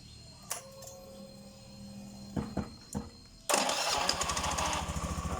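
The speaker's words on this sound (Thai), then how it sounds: "เดี๋ยวผมจะสตาร์ทเครื่องยนต์นะครับ" A Honda Zoomer-X scooter engine cranks a few times, then catches at once and settles into a loud, steady idle with a pulsing rhythm, close by.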